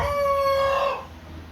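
Isa Brown laying hens about a year old on a farm crow and cluck nearby, one drawn-out tonal call lasting about a second over low barnyard rumble, then fading.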